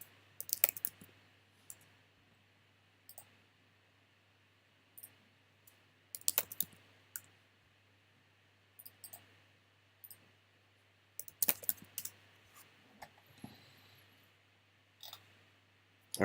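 Computer keyboard keys are typed in short, sharp bursts of clicks separated by quiet pauses, close and crisp over a low steady hum, with no talking.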